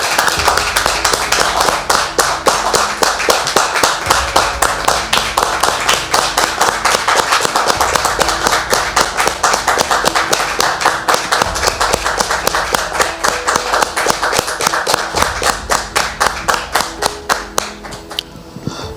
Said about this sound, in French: on la reçoit très cher public avec des applaudissements